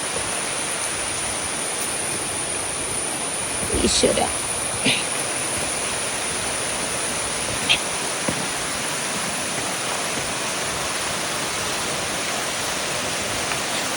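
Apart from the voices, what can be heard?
waterfall on Choorathala trek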